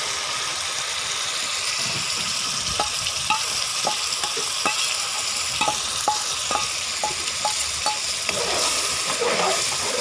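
Steady sizzling of tomato and garlic paste frying in a pan, with repeated light taps of a spoon stirring against the pan.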